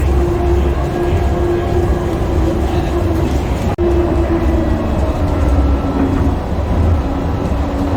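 Steady rumble of the DFW Airport Skylink people mover train in motion, a continuous low drone with rolling mechanical hum and a faint whine, heard from inside the car.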